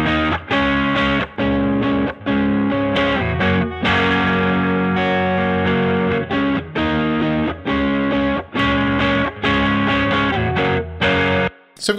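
Rhythm guitar saturated by a Safari Pedals EQ plugin on high drive, playing loud, choppy distorted chords in a steady chugging pattern with brief gaps, no other sounds.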